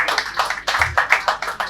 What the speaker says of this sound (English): Round of applause for Nexim.